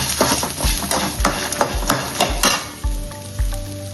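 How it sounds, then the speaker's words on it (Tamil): Coconut and cashews are sautéed in a pan for Pallipalayam chicken gravy, with a spatula knocking and scraping in a steady rhythm over a constant close sizzle. Nobody speaks. "இப்போ தேங்காய் போட்டுக்கலாம், முந்திரி பருப்பு போட்டுக்கலாம். இதையும் சேர்த்து நல்லா வதக்கணும்."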